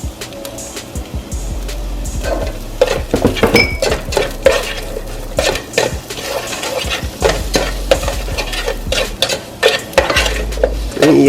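A spoon stirs and scrapes in a pan of frying green beans with turkey bacon as sugar goes in, with repeated metallic clinks and scrapes over a soft sizzle, loud and close.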